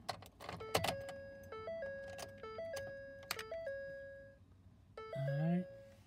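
Inserting the key into a 2009-2014 car sets off a repeating two-tone warning chime, clear and close amid small clicks and key jangles, followed by a short electronic sweep at the end, while someone speaks.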